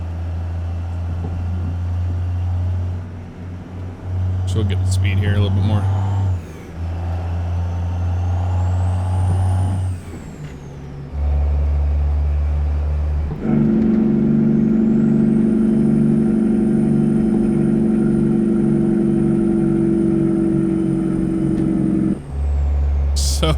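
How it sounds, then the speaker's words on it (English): Kenworth W900A truck in American Truck Simulator hauling a massive silo load, its loud engine droning and shifting with a low, stuttering Jake brake rumble rising and falling throughout, under brief speech. "Go medium on the Jake sound here."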